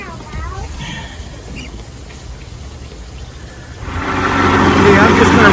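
A 1994 Evinrude 90 hp outboard motor with a power-loss fault runs at a low, steady idle, then its roar swells louder toward the end as the throttle rises, while someone speaks nearby.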